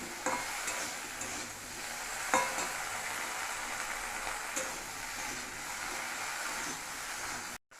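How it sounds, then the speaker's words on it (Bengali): Okra frying in a pan with turmeric and salt, a quiet continuous sizzle with occasional clinks and stirring scrapes, no speech. "এবার ঢ্যাঁড়সটা ভালো করে লাল লাল করে আমাদেরকে ভেজে নিতে হবে।"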